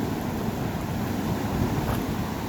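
Surf rolling onto a beach where someone is surf fishing for whiting, a steady close wash of waves with wind buffeting the microphone, no talking.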